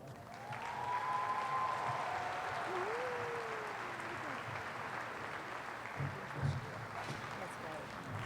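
Applause from a graduation crowd for a high school class of 2020, a steady wash of clapping that stays even throughout, with a brief louder burst near the end.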